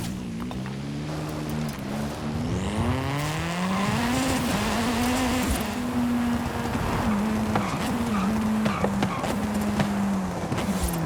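Volkswagen Golf R racing in Forza 5, its engine a loud continuous drone that rises and falls through gear changes, with tire noise and scattered clicks, no voices.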